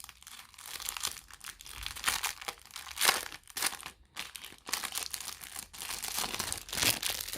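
Packaging for a Middia Lenormand card deck is opened, with close crinkling and tearing of plastic wrap and paper, irregular rustles in bursts without any talk.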